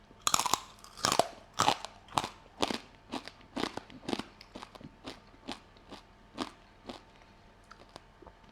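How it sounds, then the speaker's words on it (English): Crisp roast pork crackling crunches in a series of about fourteen sharp bites and chews, loud and close at first, then gradually softer, with no talking. "And most importantly, let's not forget the crackling."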